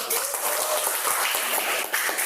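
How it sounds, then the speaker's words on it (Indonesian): Classroom audience applause during a group presentation lesson, a steady wash of many hands clapping throughout, fairly loud and dense with a faint voice or two mixed in. "tepuk tangan dulu untuk Gayatri"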